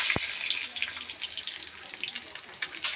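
Running tap water splashes steadily into a sink as mixed vegetables are rinsed for a home curry, a continuous close hiss of flow with a brief knock near the start and no voices.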